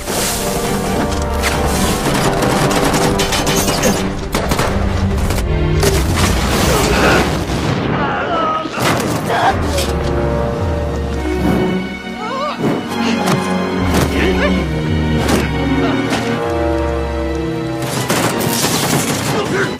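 Action-film battle with heavy gunfire and booming explosions, bursts of rapid shots and deep blasts following one another densely and loudly throughout, with a voice narrating over the mix.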